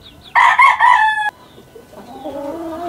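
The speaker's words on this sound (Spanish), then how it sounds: "Este es el pollito Asil Racata, miren." Crowing and clucking from a young Asil Rakata chicken, a bright harmonic crow of about one second up close, followed by softer, fainter clucks and calls.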